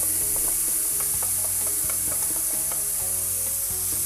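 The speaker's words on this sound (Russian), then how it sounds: "Выкладываем панир на горячую сковородку" Paneer sizzles loudly in a hot pan with a constant hiss, punctuated by light scraping and clicking from stirring.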